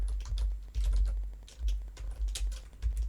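Clattering keystrokes on a computer keyboard while entering QGIS Python code, arriving in quick irregular bursts with short pauses between them, close and clear with no voices.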